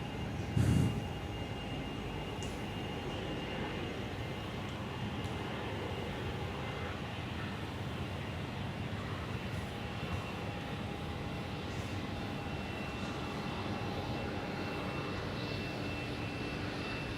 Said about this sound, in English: Alliance taxiing out there.